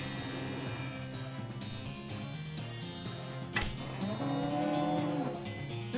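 In a video game, a cow gives one drawn-out, loud moo late in the moment, over a steady layer of game music and ambience.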